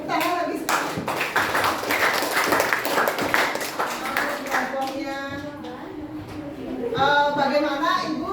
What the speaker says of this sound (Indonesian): Silakan duduk, tepuk tangan lagi sekali.